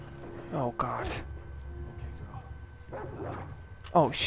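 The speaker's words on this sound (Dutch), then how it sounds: "Honden, die kunnen me ruiken." Dogs in The Last of Us Part II bark and yip close by in two sharp bursts, with a whimpering note between them. Someone talks under and between the barks over steady game background hum.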